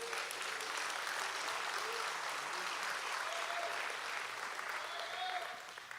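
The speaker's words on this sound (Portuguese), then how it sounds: "Você pode aplaudir o Senhor nosso Deus?" Church congregation clapping in praise during a worship service, an even, sustained round of applause heard at a moderate distance that fades slightly near the end.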